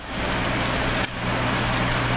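Steady car traffic on a wet, rainy road, with a continuous close wash of tire hiss and engine rumble and one brief louder pass or splash near the middle.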